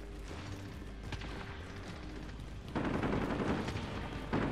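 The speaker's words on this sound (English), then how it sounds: "Shots fired. He's shooting." Gunfire crackles through a Call of Duty match on Rebirth Island, distant shots at first, then a louder, heavier burst of firing that keeps going until a final sharp surge near the end.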